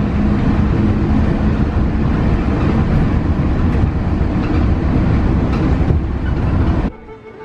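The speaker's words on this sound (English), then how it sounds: "Monorail's here." A Walt Disney World monorail pulling in, a loud, sustained rumble and rolling rattle up close that cuts off abruptly near the end.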